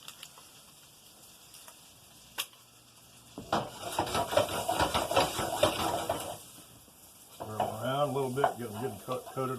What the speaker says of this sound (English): You can hear the butter starting to sizzle over here